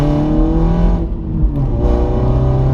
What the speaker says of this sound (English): John Cooper Works Pro exhaust button, flick it open, and that then gives you maximum power. Foot down again,